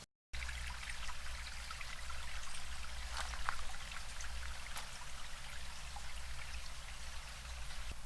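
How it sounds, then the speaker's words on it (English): A camping stove heats a pot of water on a trail, giving a steady close hiss and roar with faint trickling and ticking, continuous throughout. "Okay, so now the pot's on. We'll just wait for this thing to boil."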